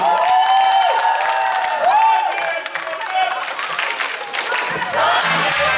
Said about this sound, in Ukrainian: Підтримуємо, оплесками слухаємо.